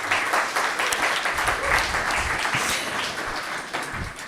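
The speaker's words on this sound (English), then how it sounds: "So a big round of applause for that." An audience at an evening writers' community event breaks into loud, dense applause, a continuous crackle of many hands clapping for about four seconds.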